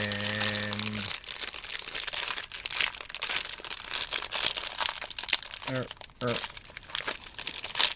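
Plastic packaging around a small RC transmitter and receiver is torn open, making loud, close, continuous crinkling and crackling with brief tearing bursts, and a voice speaks over it.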